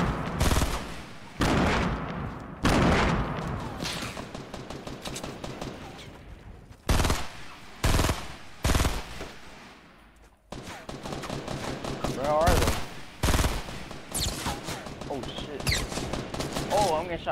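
Rapid gunfire bursts and shots from the video game Fortnite, some loud and clustered, others sparser, with a player talking over the action throughout.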